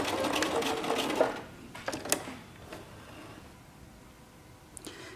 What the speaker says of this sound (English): I'm just gonna sew and we can see how this goes from the beginning